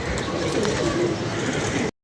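Pigeons coo softly and repeatedly against a steady background hum, the sound cutting off abruptly near the end.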